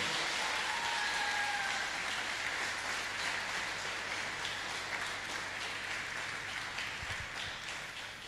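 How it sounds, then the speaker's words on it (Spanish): A church congregation applauding loudly during an evening service, sustained dense clapping that fills the whole stretch at steady strength, tapering a little toward the end. "Aplaudan fuerte al Señor en esta noche"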